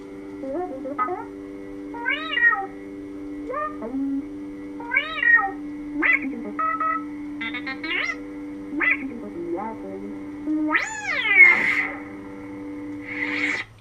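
BB-8 droid chirps and warbling beeps from a Proffie Neopixel lightsaber, several rising and falling squeals in quick bursts over a steady hum, fairly loud and close.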